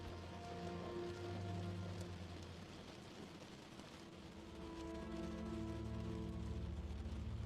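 Gentle rain with water droplets falling, a faint, soft hiss of drops that continues evenly under low, sustained tones.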